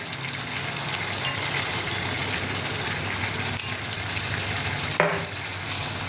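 Mutton sizzles steadily in a pan with Kashmiri chilli powder and hand-pounded ground spices, a continuous close frying hiss with a couple of sharp spatula clinks, no one talking.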